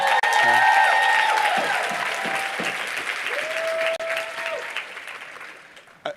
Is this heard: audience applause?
yes